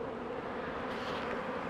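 Honeybees circle just after a swarm has been hived into a small nuc box outdoors, making a steady, close buzzing drone that fills the whole moment without any talk.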